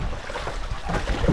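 A boat paddled on open water in strong wind, with steady rumbling wind noise and wave wash filling the sound, and a few low knocks near the end.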